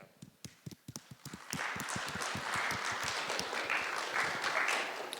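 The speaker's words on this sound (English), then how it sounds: "I think we all should applaud for sending the slides." Audience applause at a programming competition event, starting with a few scattered claps and swelling into steady, full clapping from a crowd that continues to the end.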